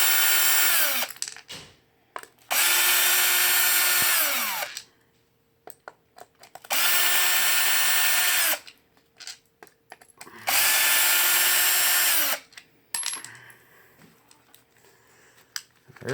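A power driver backs bolts out of the spur gear cover on a Traxxas X-Maxx. It sounds in four loud, steady whirring bursts of about two seconds each, with quiet pauses and small clicks of handling between them.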